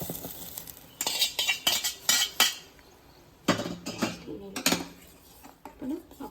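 Fried vermicelli stirred into boiled milk for payasam, with clattering spoon-on-pot scrapes and clinks in irregular bursts, fairly close, over a quiet background.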